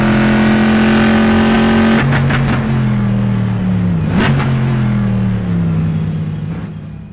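Original Chevrolet Stingray Corvette, a 1960s GT race car in Assetto Corsa, sliding around Willow Springs in the desert: a loud, close engine revs high and steady, shifts down with falling pitch, then fades slightly toward the end.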